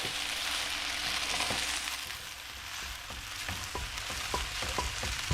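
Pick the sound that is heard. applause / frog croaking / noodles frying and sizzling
noodles frying and sizzling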